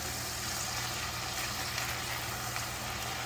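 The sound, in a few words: stirring bacon, butter and onions frying in a pan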